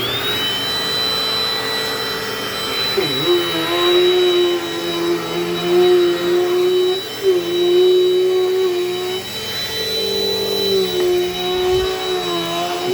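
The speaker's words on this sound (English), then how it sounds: "So we're gonna turn on the vacuum right now." A Dirt Devil Dynamite Plus vacuum cleaner runs loudly and steadily up close, its motor whine holding a constant pitch with slight wavering as it moves, continuous throughout with no talking.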